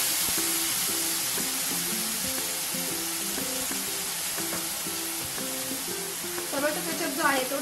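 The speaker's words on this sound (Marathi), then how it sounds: "आपण सर्व भाज्या व्यवस्थित मिक्स करून घ्या. त्यातच आपण आता सोया सॉस जो आहे तो सोया सॉस थोडासा टाकून घ्यायचा आहे" Vegetables stir-frying with soy sauce in a pan for Chinese-style pohe, a steady close sizzle with stirring scrapes while background music plays, a voice briefly heard near the end.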